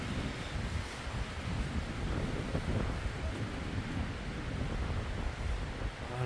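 Strong wind buffets the microphone at Pyramid Island in Jasper, a steady, loud roaring rush that never lets up, with no voices over it.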